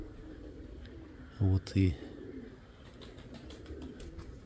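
Pigeons at a dovecote give soft low coos in the background, a few faint calls mixed with rustling, while someone speaks briefly close by.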